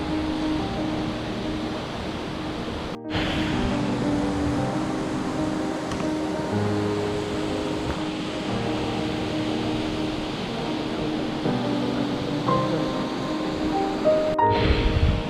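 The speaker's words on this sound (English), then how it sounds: "Getting closer to the 100 meters waterfall." A steady wash of falling water from the 100 m waterfall on the Levada do Caldeirão Verde, Madeira, heard from a distance as a broad, unbroken rush, with two brief gaps in the sound.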